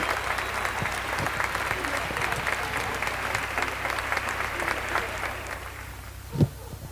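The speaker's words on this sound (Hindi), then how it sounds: "जोरदार तालियां हो जाए सर आनंद चिंते जी के लिए" Audience at a dance competition grand finale applauding a judge invited on stage, steady clapping from a crowd throughout with a sharp thump near the end.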